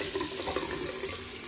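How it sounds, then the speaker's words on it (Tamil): Hot water runs from a tap into a sink in a Volgograd overnight stay, a steady splashing hiss that keeps going unbroken, with no voices. "இதுதான் ஹாட் வாட்டர்."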